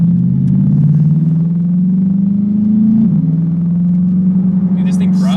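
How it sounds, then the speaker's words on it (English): Twin-turbo V8 C8 Corvette tuned to about 900 horsepower on boost, a loud steady engine drone from inside the car that rises gradually, with a brief high whistling spool near the end and people talking over it. "Hearing like turbo spool behind you"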